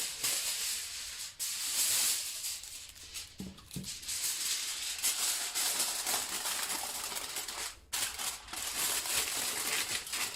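Tin foil crinkles and rustles continuously for several seconds, close and bright, with a few brief pauses and no talking.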